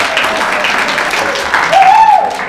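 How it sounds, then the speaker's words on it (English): Workshop audience applauding in a lecture hall, a steady wash of clapping with some cheering voices rising near the end. "hold for wild applause"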